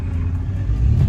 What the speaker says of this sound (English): So we're bedding the brakes right now.